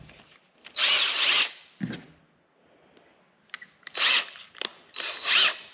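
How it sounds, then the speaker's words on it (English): A power drill whines in several short bursts, biting through the thin metal of a door with a high, gritty grinding, separated by pauses and small clicks. "You really got to drill this straight through."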